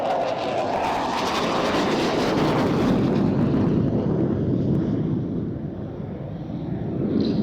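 A Hawker Hunter jet fighter, a British post-war design first flown in 1951, passes at an airshow with a loud, sustained roaring engine that swells and slowly fades, buffeted by wind noise.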